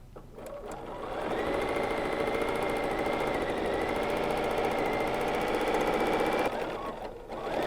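A sewing machine quilts wavy lines across a placemat, its rapid stitching hum starting up, running steadily for several seconds and then stopping, close and clear.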